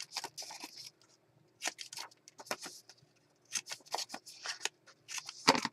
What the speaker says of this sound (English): So I'm going to cut off the corners.